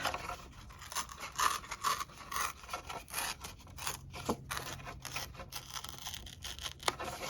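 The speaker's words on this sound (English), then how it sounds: "I'm just going to tear kind of on an angle" Paper is torn by hand at an angle around a printed image for card making, giving a series of close, dry rips and crinkles in uneven bursts, with no speech.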